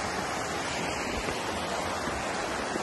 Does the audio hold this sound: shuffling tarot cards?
no